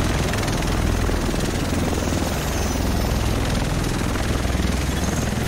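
A helicopter arrives in the game Tom Clancy's The Division, its rotor chop droning loud and steady without a break, with no talk over it.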